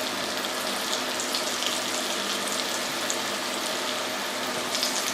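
Potatoes hitting hot oil for potato fondant give a steady, dense, close sizzle that holds level and unbroken throughout, with no voices over it.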